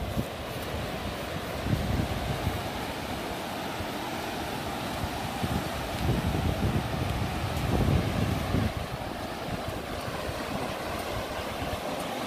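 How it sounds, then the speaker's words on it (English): Strong waves roll onto the Lake Michigan shore at Silver Beach in St. Joseph, Michigan, a continuous rumbling wash that swells and eases, mixed with buffeting wind noise on the microphone. "Look how strong those waves are."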